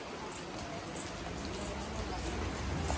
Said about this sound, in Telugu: వాన అంతా పడుతుంది